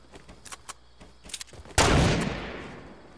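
Gunfire in a video game: a few faint, distant pops and short bursts early on, then one loud, close shot with a long reverberant tail that slowly decays.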